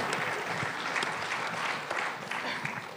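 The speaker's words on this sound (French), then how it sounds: "On vous applaudit tous les trois" An audience at a talk on disinformation applauds three speakers, a dense, even patter of clapping that carries on for a few seconds at moderate volume, with faint voices beneath.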